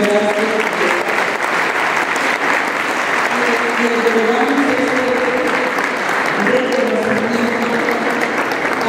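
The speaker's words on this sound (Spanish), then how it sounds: "un merecido aplauso" An audience applauds a doctor at an education event on school leadership and study plans, steady clapping carrying on for the full stretch with tonal voices and talk running underneath.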